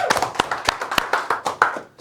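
Sharp, separate hand claps from an audience at a real-estate business event, about a dozen crisp slaps in a quick uneven rhythm, close and fairly loud.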